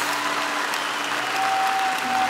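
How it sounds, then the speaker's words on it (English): An audience claps hands together at a church worship service, a dense, steady applause filling the whole stretch at close range with no talk over it. "clap your hands if you believe that"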